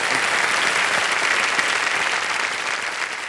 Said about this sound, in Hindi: पूरी जनता जो है तालीम मार रही है